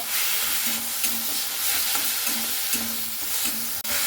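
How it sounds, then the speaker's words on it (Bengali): Mustard greens fry in a pan with a constant bright sizzle, and a spatula stirs them in steady, rhythmic scraping strokes, close and fairly loud. "এইভাবে একটু ভালো করে নাড়াচাড়া করে নিতে হবে, দিয়ে শুকনো শুকনো করে নেব সেই সরিষা শাকটাকে।"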